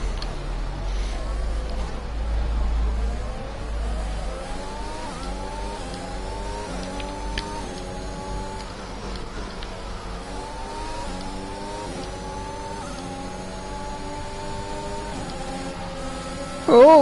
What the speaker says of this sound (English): we've got a huge crowd of cars in front of us